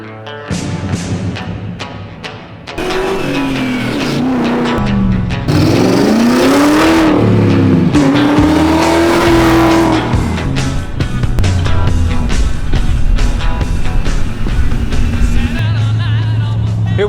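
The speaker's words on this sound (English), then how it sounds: "Here we go on the first actual drive out on the street with the manual swapped 540i." A manual-swapped BMW 540i drives on a public street, its engine loud and close as it revs up through the gears with rising and falling pitch and tire noise, with no talk over it.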